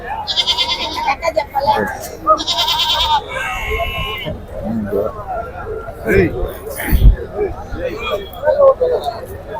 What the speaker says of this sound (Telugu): ఇతని దగ్గర అయితే ఒక మూడు మూడు మేకపోతలు అయితే ఉన్నాయి